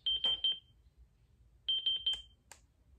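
A JBL Horizon speaker's alarm buzzer beeps in two short bursts of rapid, high-pitched pulses, separated by a pause, followed by a couple of brief chirps.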